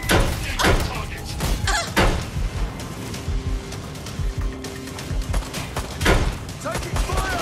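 Gunfire in a firefight from the video game Watch Dogs Legion, loud bursts of shots at irregular intervals with game voices and other effects mixed in.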